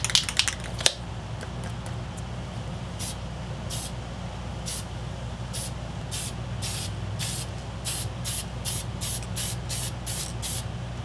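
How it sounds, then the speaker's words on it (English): An aerosol can of Testors lacquer primer sprays a model squirt gun, giving a steady hiss and then a run of short, sharp spray bursts, close and clear. "Trying this stuff out here, Testors Lacquer Primer for models."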